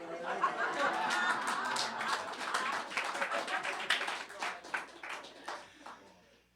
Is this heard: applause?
yes